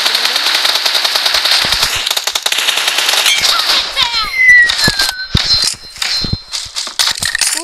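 Rapid automatic gunfire from a video game rattles out in dense, loud bursts, broken by single sharp shots and brief pings toward the end, with no talk over it.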